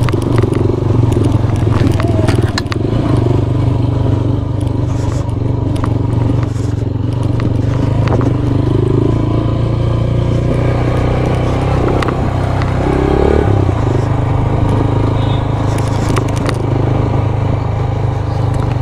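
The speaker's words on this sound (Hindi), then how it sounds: "वो देखें, कुछ बाइकर्स जा रहे हैं ऊपर" Motorcycles ride up a mountain road during a bikers' event, their engines a steady loud drone that stays near throughout, with faint crackle and clatter over the top.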